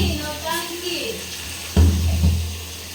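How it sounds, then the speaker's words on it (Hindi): Water poured into a cooking vessel while pakoras are being made with chopped spinach, a short splashing gush arriving partway through after softer kitchen sounds, with a voice talking quietly at the start. "पानी को डाल देते हैं"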